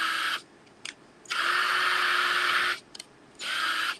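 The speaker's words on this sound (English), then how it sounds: "I'm going to drill a hole." Power drill boring a hole through a thin wood round, a close whining motor in three bursts, the longest steady and sustained, separated by short pauses.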